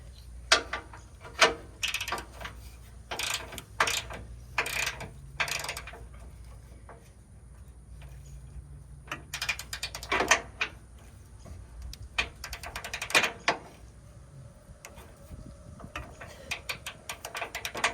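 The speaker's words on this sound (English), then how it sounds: "Lock this ratchet so it stays where it needs to be." A ratchet wrench clicks in repeated bursts of rapid ticks while working on the rear strut of a 2007-2017 Ford Expedition. The clicks are close and crisp, separated by short pauses.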